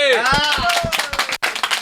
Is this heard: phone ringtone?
no